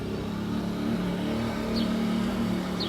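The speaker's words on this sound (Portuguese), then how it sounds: "na hora que eu vou dublar, a moto passa" A motorcycle passes by outdoors, a moderate, steady engine drone that swells slightly and fades, heard from indoors at some distance.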